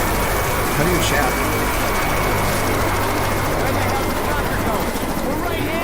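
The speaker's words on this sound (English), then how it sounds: "Goddamn whirlybird left without us. Helicopter. It is a helicopter." Helicopter in the video game Earth Defense Force 5, a steady loud rotor and engine drone that fills the clip under busy game noise.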